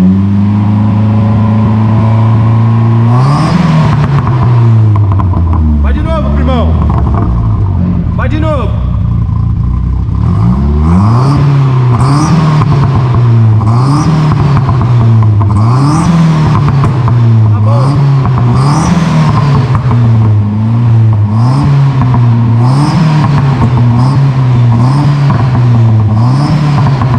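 A turbocharged Ford Escort engine revs repeatedly up and down in a steady rhythm of throttle blips, loud and close, with occasional whooshing turbo and intake noise and people talking over it.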